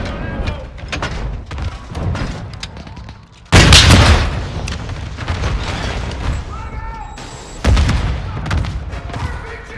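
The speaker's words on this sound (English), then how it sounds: "I blew up a tank, it feels amazing." A tank blowing up in Call of Duty Warzone 2.0: two loud, sharp explosions burst out amid scattered gunfire and game noise, with people talking over the action.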